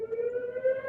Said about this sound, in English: Sirens are getting pretty loud.